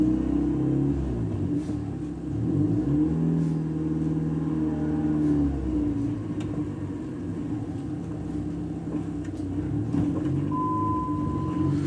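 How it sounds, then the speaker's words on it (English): A car drives through town with a continuous low engine rumble and road noise that swell and ease as it accelerates and slows, close and steady throughout. "Let's hit the road and do a little driving."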